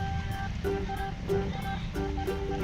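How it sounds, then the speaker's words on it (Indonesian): A flooded river rushes strongly, a dense, steady roar of moving water close by, with faint tonal sounds drifting over it. "Baru bilang banjir, sungainya banjir kencang tuh. Kencang banget"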